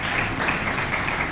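Dense, steady applause from an audience honoring women journalists, a continuous close wash of clapping without pauses.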